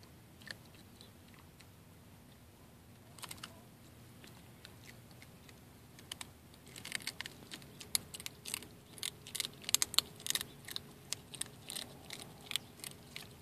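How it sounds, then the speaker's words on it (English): A river otter crunching a crab, shell and all, on a shore: faint at first, then a run of sharp, irregular crackling bites growing denser and louder near the end, over a quiet outdoor background. "He's just eating this thing shell and all,"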